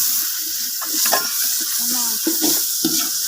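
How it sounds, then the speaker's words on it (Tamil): Green chilies and bay leaves sautéing in a pan for chicken biryani cooked outdoors in a garden, a loud close hiss of sizzling with bursts of spatula stirring and scraping. "இதோடைய சேர்த்து நல்லா வதக்கி விடுவோம்"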